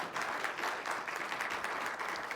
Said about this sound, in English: a big, round of applause from everybody